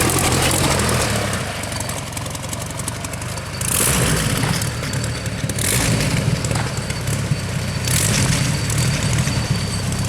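The large aero engine of a vintage racing car idles and runs with a deep, steady rumble, its roar swelling slightly a few times, close by and continuous throughout, during a parade.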